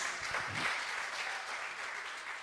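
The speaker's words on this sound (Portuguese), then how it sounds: "Aplauda o Senhor Jesus." A church congregation applauds during a worship service, a faint, even wash of clapping heard from some distance that holds steady throughout.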